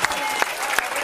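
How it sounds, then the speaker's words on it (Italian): Brief burst of audience clapping in a television studio after a cooking segment, dense and fairly loud, with a few sharper claps standing out and faint voices underneath. "facciamo un applauso alle Mariette di casa Artusi"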